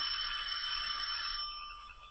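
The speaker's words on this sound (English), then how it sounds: "he rings the bell" A doorbell at a heavy oak door gives a sustained bright bell-like ring with steady overtones, holding for over a second, then fades, with no voices present.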